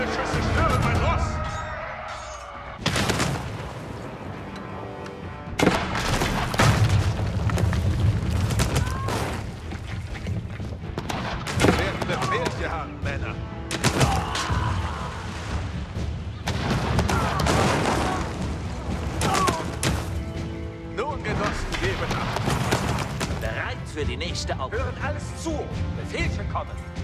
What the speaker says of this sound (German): Wir werden angeschossen!